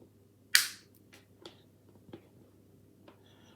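Wire cutters snip through electrical cable while a UK 3-pin plug is wired, giving one sharp, close click, then a few fainter snips and taps in a quiet room.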